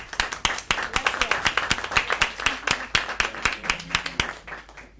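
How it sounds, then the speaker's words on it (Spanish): A small group claps steadily for several seconds at a legislative culture committee session, with distinct individual hand claps rather than a big roaring ovation. "Un aplauso para ella."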